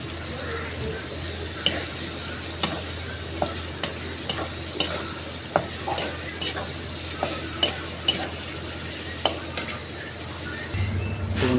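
Chicken pulao masala cooked down with sour yogurt in hot oil, giving a close, steady sizzle broken by a dozen or so sharp scrapes and clinks of a spoon stirring against the pan, with some speech present.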